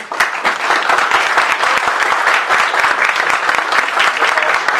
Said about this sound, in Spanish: A él le damos no solamente la bienvenida con un fuerte aplauso